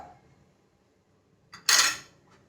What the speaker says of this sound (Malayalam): നന്നായി ഒന്ന് ഇളക്കി കൊടുക്കാം ഇനി ഇങ്ങനെ കൈ എടുക്കാതെ നമുക്ക് ഇളക്കിയും കൊണ്ടിരിക്കാം